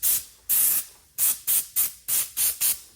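Aerosol lubricant sprayed onto the tops of engine valve springs and valves: eight quick, close hissing spurts, the first two longer and the rest short, with brief pauses and no voices.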